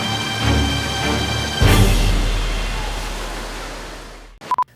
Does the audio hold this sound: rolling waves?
yes